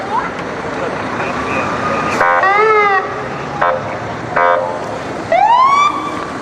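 Orange Cross Ambulance unit in a Sheboygan Falls centennial parade sounds short, loud siren bursts in several separate wails and yelps with pauses between, over street crowd noise and talking.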